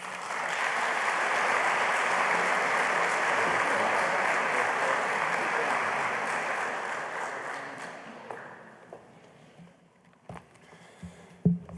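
An auditorium audience at the opening of MIT Technology Day 2017 applauds a speaker onto the stage: a broad, steady wash of clapping holds for about eight seconds and then fades into a few scattered claps and room noise.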